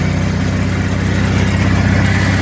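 A Venturo ET10KX mini crane's engine runs steadily in battery charging mode, a loud, close, continuous low drone with an even pulsing rhythm and no talk over it.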